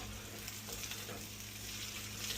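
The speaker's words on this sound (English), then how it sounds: "So now we're gonna flip the veal steak again" A veal steak sizzles in a pan with butter, giving a quiet, steady hiss that keeps going with no talking.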